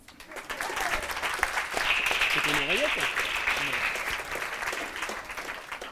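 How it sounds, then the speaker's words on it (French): A comedy club audience bursts into applause for a comedian's father, a full crowd clapping steadily and loudly, with a few voices and faint shouts carried along beneath the clapping. "Que vous fassiez un tonnerre d'applaudissements à Papa qui est venu ce soir de très loin"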